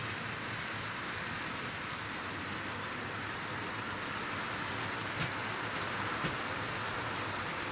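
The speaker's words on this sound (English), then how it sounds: "So let's watch it come over those junctions again." A Tri-ang Super 4 model train hauling a long rake of teak coaches and horse boxes rolls continuously over layout junctions, a steady close rumble with a couple of faint clicks as the wheels cross the track.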